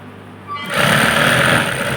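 A home sewing machine stitching clothes starts up after a brief quiet moment, then runs with a steady, close, rapid whirring hum.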